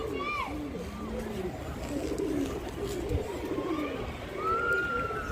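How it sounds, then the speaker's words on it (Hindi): Pigeons coo in soft, repeated throaty phrases close by, with other bird calls and a busy background murmur of voices and outdoor noise. "ये रहा न्यू कबूतर"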